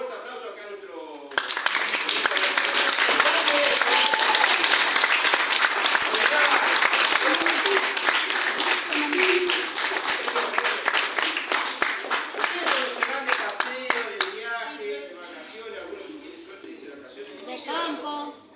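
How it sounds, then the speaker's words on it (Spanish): Sustained audience applause at a visit by Malvinas war veterans and survivors, a loud, dense wash of clapping that swells, holds for over ten seconds, then thins into scattered claps as voices return. "le vamos a dar un fuerte aplauso acá"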